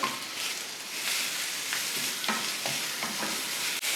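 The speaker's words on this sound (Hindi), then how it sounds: "चिकन को हमने अच्छी तरह से भून लेना है जब तक कि इसका कलर चेंज ना हो जाए।" Chicken pieces fry in oil in a pan over medium flame, giving a steady, fairly quiet sizzle with occasional scrapes and stirring clicks.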